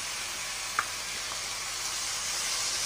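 Tomato paste sizzles in a pan with spiced chicken for chicken tikka masala, a steady, bright frying hiss that holds evenly throughout, with one small pop near the start.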